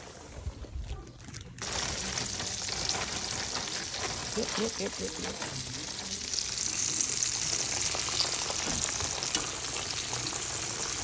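Mustard greens dropped into hot grease crackle and sizzle loudly and steadily, close by, with a brief spoken word near the start.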